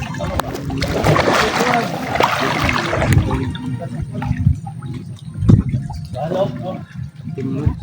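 A bangka outrigger boat out on the water, with a steady engine-and-water wash and splashing throughout while people talk loudly nearby.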